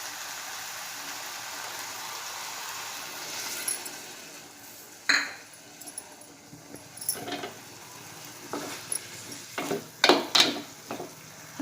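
Potatoes and vegetables in a cluster bean curry being stirred in a cooking pot: a quiet background at first, then scattered metallic scrapes and clinks of a spoon against the pot, growing busier toward the end.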